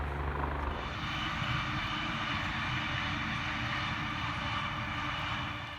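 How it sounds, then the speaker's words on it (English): A medical care-flight ambulance helicopter passes over a suburban house: a continuous broad rotor and engine roar that holds steady overhead, then begins fading slightly at the very end. "this isn't a police helicopter, but it's a helicopter. I think it's a care flight, like ambulance people."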